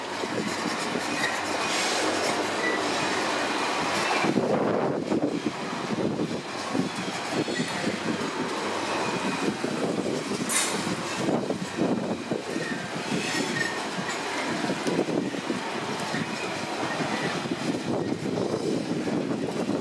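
Freight train of empty wagons passing through Cardiff Central station, a continuous loud rumble with rhythmic wheel clatter and occasional squeals lasting throughout.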